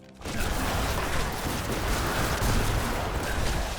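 Corpse explosion spell in Diablo III blasting through a group of enemies, a sudden loud rumbling burst of overlapping explosive crackles that keeps churning without pause.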